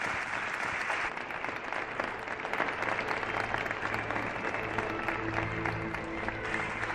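A radio studio audience gives a guest a sustained round of dense applause at a steady level; faint tones join toward the end.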